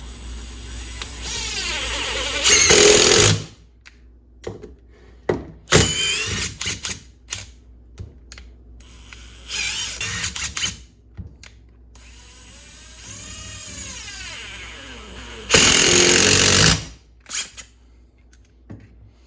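A Makita XDT19 impact driver with a Torx bit drives decking screws in two loud, sustained bursts, with quieter intermittent rattles and clicks of handling in between.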